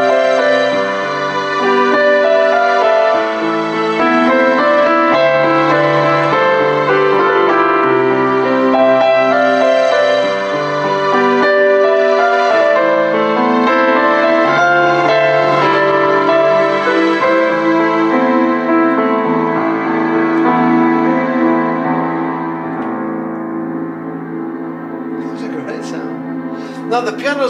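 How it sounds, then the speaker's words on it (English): A Kawai CN301 digital piano plays chords with piano layered over sustained string pads, a full, lush texture that fades out near the end. "You could also layer sounds together or split it. So I'll just give you an example of that with piano and strings."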